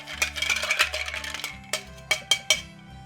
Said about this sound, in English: Alright, so now our drink has diluted a little bit while it was resting. I'm just going to give it a little stir here.